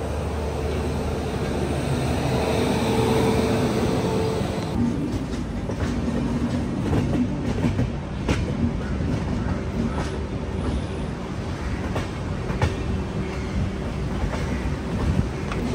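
A locomotive-hauled train rumbles through Visakhapatnam junction, first a loud roaring engine pass, then a sustained rolling rattle of wagons with scattered clicks and clanks over the rails.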